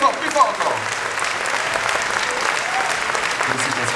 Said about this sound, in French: On applaudit encore très très fort Georges Proust